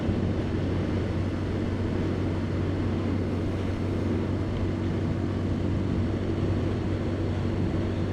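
A brand new Honda Dax motorcycle climbs a hill into a headwind, with a steady, unbroken engine drone blended with loud wind roar throughout.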